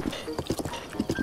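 Horses at a stable in a Zelda video game, their hooves clip-clopping in a quick, uneven patter that stays steady and close throughout the short stretch.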